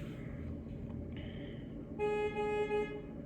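A car horn honks early in the morning with one steady, moderately distant blast of about a second, over low traffic rumble.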